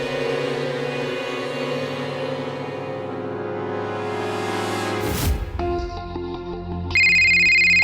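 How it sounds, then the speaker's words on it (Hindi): A phone ringtone plays, first a sustained tone, then a brief sweep and a melodic electronic tune that jumps louder near the end. "कुसुम का फोन"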